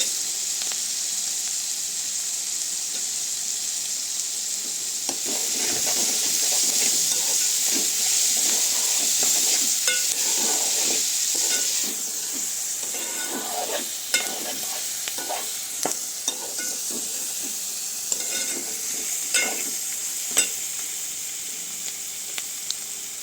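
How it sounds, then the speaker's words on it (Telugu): Drumstick pieces sizzle steadily in a hot pan for a village-style egg and prawn curry, with repeated scraping and clattering stirs growing busier and sharper in the second half. "ఇప్పుడు ములక్కాడ ముక్కలు వేస్తున్నానండి"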